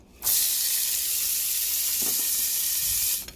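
Chopped garlic and onion dropped into hot olive oil, a sudden loud, steady hissing sizzle close by that cuts off after about three seconds.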